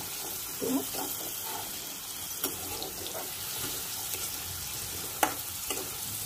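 Kabuli chickpeas with a little methi and turmeric frying in a pan, giving a soft, steady sizzle with occasional stirring clinks and scrapes, fairly quiet and close.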